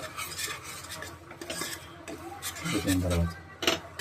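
A metal spoon stirring egg biryani ingredients with curd in a pot, scraping and clinking against the sides in uneven strokes, heard close under a person speaking.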